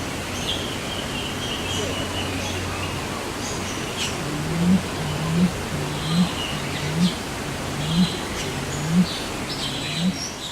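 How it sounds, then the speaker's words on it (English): A bird in a Hong Kong Park aviary repeats a low, cooing call at regular intervals against a constant wash of background noise, with faint higher chirps scattered through. "I was super proud of myself for catching that weird bird noise on video."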